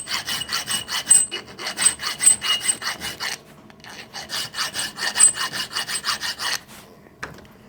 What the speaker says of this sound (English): all I'm doing is filing away so the little curved bit in the bottom disappears on all four sides